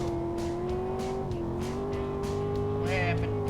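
A trophy truck spins out during a race at Phoenix; a loud, sustained engine drone wavers in pitch with a brief tire squeal near the end, while people talk over it.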